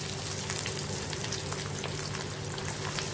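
Mackerel fish fingers deep frying in hot oil over medium heat, giving a steady, dense sizzle with constant crackle throughout and no talking.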